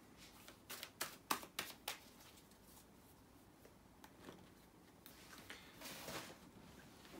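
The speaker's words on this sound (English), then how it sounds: "let me shuffle the cards" Soft, quick riffles and flicks of tarot cards being shuffled close by, a burst of crisp snaps early, then quieter intermittent shuffling.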